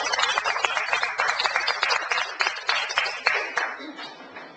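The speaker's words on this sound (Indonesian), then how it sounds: "Tepuk tangan buat Tuhan." A congregation claps during a church service, steady rhythmic clapping from many hands that fades out after a few seconds, with faint voices mixed in.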